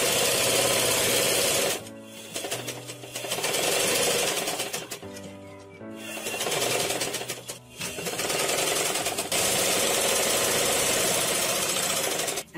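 A sewing machine runs in loud, steady bursts of rapid stitching, separated by short pauses where the motor stops and starts again.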